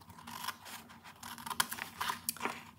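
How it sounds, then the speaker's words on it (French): Scissors cut through gift wrapping paper in several short snips and longer slices, with crisp rustling of the paper between cuts, close and moderately loud with no talking. "on va prendre notre paire de ciseaux et on va venir découper ici"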